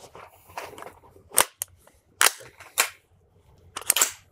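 A handgun is loaded and its slide racked: a few sharp metallic clacks and clicks, close and distinct, set apart by quiet handling noise.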